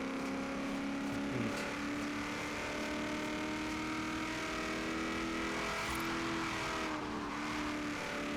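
A Mazda RX-7's rotary engine in the racing game Forza Horizon 3 drones steadily at high revs, with pitch rising and falling through gear changes, alone and without talk.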